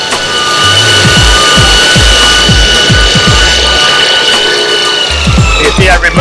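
A Multitool MLT 362 belt grinder runs loud and continuous as metal is touched to the belt to remove fine scratches, a steady roaring whir close up with repeated brief dips in pitch as the workpiece meets the belt.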